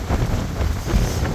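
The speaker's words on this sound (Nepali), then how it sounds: "हावा चाहिँ अति नै मान्छे उडाउने जस्तो लाग्दैछ" Strong gusting wind in Upper Mustang, Nepal, buffets the microphone with a loud, steady roaring rush and low rumble, with no voices.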